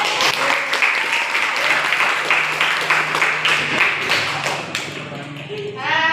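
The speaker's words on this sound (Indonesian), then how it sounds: "Ayo tepuk tangan." Classroom applause during a lesson, a group of students clapping hands in a dense, steady patter that fills the room for several seconds before tapering off, with some voices mixed in.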